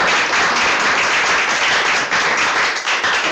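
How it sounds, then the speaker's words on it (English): An audience at an academic talk applauds the speakers loudly and steadily, dense clapping from many hands filling the room without pause. "I'd like us to give our speakers a huge applause"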